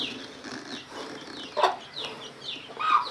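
A hen on a small farm clucks in soft, scattered bursts close by, with sharper peeps that may come from a chick, set against quiet outdoor background.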